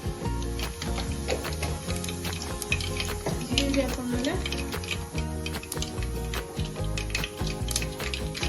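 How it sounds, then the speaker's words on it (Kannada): Mustard seeds spluttering in hot oil in a home kitchen, a dense run of rapid crackling pops over steady sizzle, close and fairly loud, with a voice talking through it. "ಸೊ ಈಗ ಸಾಸಿವೆ ಸಿಡಿತಾ ಇದೆ."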